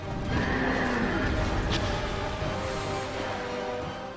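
A horse in the video game Dark Souls 2 neighs loudly and close by, its whinny rising and then trailing off. Hooves clop beneath it and dense game noise fills the background.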